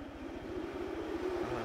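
A helicopter's rotors in the video game The Thing thump in a steady, rapid rhythmic chop, fairly faint and distant, with no voices.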